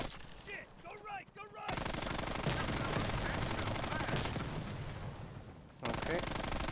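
Automatic weapons fire in Call of Duty Black Ops Cold War rattles loudly and continuously for several seconds in a dense fusillade, starting and stopping abruptly, with quieter game sounds and a voice before it.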